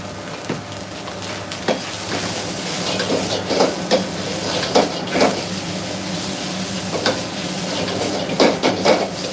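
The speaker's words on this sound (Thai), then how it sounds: "ผัดไปเรื่อยๆนะครับค่อยๆผัดไปเพราะว่าเส้น เส้นใหญ่" Wide rice noodles stir-fried in a pan, a continuous sizzle broken by repeated scraping and tossing clatters of the utensil against the pan, close and fairly loud, with no talk.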